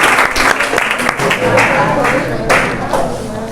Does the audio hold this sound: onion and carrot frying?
no